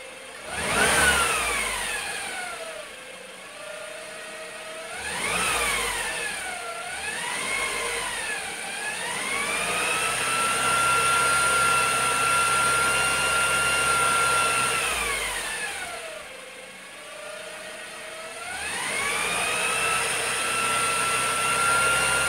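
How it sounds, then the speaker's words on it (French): A Saab 9-3 with the B207 engine, idling after a water pump replacement, is blipped repeatedly. Engine speed climbs and falls in several distinct swells, with one longer held rev in the middle. The sound is close and loud, and no one talks. "Je crois que je vais devoir l'aider avec des coups de gaz"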